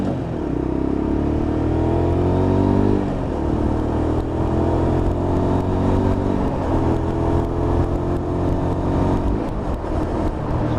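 A Lexmoto LXR 125cc motorcycle engine revs while riding around town, a loud, close, deep growl that rises and falls in pitch through repeated throttle blips.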